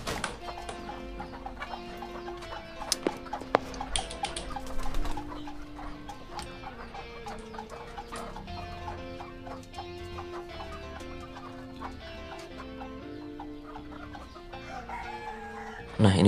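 Hens in a breeding coop being fed starfruit leaves: steady clucking and chattering from many birds, with sharper calls and occasional crowing, fairly near and continuous, with no talk over it.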